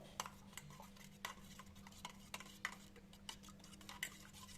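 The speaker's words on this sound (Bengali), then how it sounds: "এবার সরষেটা আমি ভালো করে এখানে গুলে নেব।" Mustard paste stirred with a little water in a bowl: soft, regular clinks and taps of a spoon against the vessel, about one per second, quiet and close, over a low steady hum.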